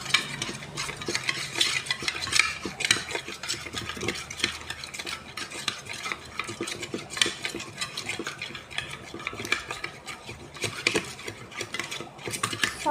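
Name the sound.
stirring sugar mixture for slime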